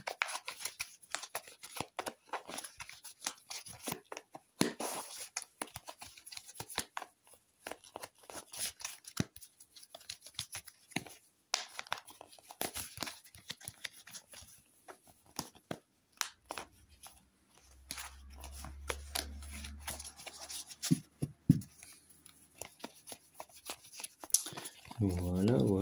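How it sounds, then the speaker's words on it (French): Tarot cards being shuffled by hand, giving a run of quick papery riffles and taps up close, with a speaker talking throughout and a low hum entering near the end. "je commence tout de suite du coup en battant les cartes, en les mélangeant"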